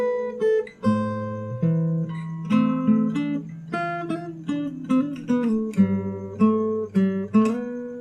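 A plucked guitar plays a quick fingerstyle lick from a song with bass notes under it, notes ringing close and clear, no voices.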